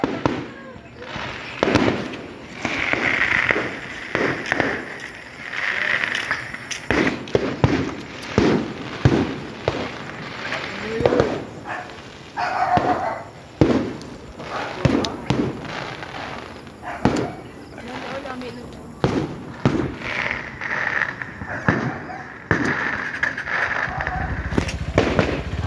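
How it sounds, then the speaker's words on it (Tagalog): Fireworks bursting outdoors at a celebration in Jolo, Sulu, a string of sharp pops and booms at varied distances, some close and loud, mixed with crowd noise and people talking nearby. "Ngayon makikita mo dito mga fireworks."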